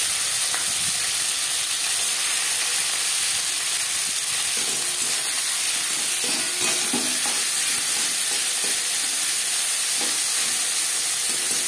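Bottle gourd peel fries in oil with dried red chili and whole cumin, a steady hissing sizzle with faint stirring scrapes throughout and no speech.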